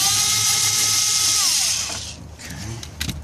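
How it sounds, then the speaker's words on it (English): A power drill or driver whirs steadily and loud for about two seconds while backing out the stereo screws in a 2005 Toyota Tundra, then stops, leaving faint clicks and handling noise. "The stereo has 4 pulse screws. You unscrew this."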